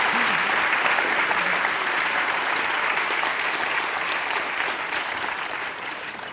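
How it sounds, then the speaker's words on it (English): Audience applause in a university lecture hall, a dense, even wash of clapping from a large crowd that continues steadily throughout, easing only slightly at the end. "let's have a round of applause for David Tyndall"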